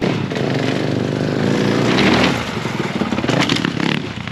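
Motorbike being ridden nearby, its engine running with a rough, buzzing drone that swells, then drops into a choppier, fluctuating idle-like rumble.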